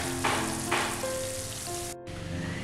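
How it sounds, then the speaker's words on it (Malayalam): Bread gulab jamun pieces deep-frying in hot oil until brown, giving a continuous dense hiss of bubbling sizzle with a couple of louder surges and a faint low hum underneath. "ബ്രൗൺ കളറാകുന്ന വരെ ഇതൊന്നും തിരിച്ച് മറിച്ചൊക്കെ ഇട്ടിട്ടൊന്ന് മൂപ്പിച്ചെടുക്കണം"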